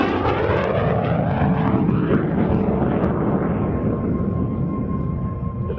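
A vintage MiG-17 jet fighter roars overhead at an air show while pulling a hard turn, with a loud, rumbling, broadband jet engine sound whose pitch sweeps as it passes and slowly recedes.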